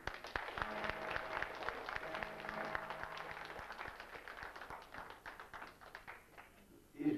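An audience claps at a guitar-accompanied singing performance, a loose patter of hand claps with some distinct taps that thins out and fades toward the end, fairly quiet overall.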